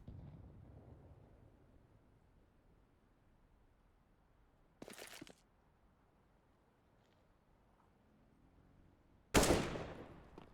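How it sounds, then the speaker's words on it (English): Two short, sharp bursts of gunfire in a Counter-Strike match on the Mirage map, the second louder and more abrupt, separated by long stretches of quiet background noise. "Reflexively popped a shot."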